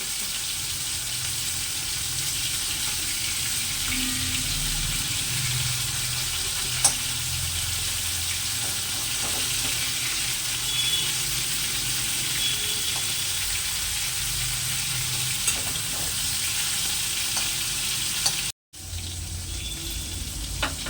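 Shrimp fry in a pan over a gas flame turned down to low-medium, giving a steady, dense sizzle that continues without a break, apart from one very brief dropout near the end.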